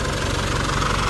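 Isuzu D-Max with a 4JK1 diesel engine idling after an overhaul that included a cracked cylinder head, giving a steady, loud, close-up rumble with a rapid, even knock throughout.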